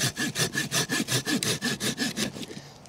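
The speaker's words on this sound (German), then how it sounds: "Säge ich das Ding mal durch." Hand saw cutting through a wooden branch to make bushcraft tent pegs outdoors: about fifteen steady, rhythmic rasping strokes, close and loud, slowing and fading at the end.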